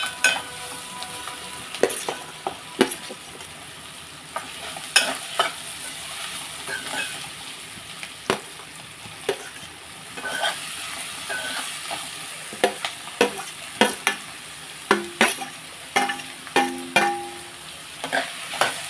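Bottle gourd pieces sizzle in a hot pan with a steady frying hiss, punctuated by frequent clattering scrapes and knocks of a spatula stirring throughout.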